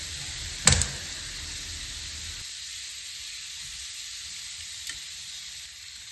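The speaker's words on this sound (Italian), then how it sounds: "e aggiungiamo l'uovo" Egg added to a pan of potatoes sizzles and fries, with a sharp crackle as it lands and steady frying hiss that continues, quieter, afterward.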